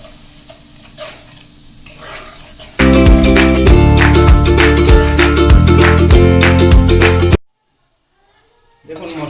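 Chicken masala is stirred in a pan with added water for a homemade dahi chicken, heard as loud, close scraping and clattering of a spoon against the pan with sizzling, then a sudden stop.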